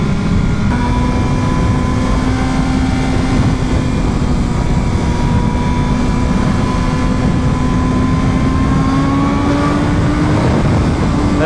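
BMW M1000RR superbike at high speed, its engine droning loud and steady with a clean tone that climbs slowly in pitch, the whole mix thick with constant wind roar and no speech.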